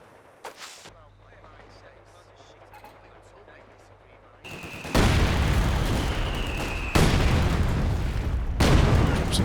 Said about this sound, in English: Oh man, the heavy mortar barrage from downtown.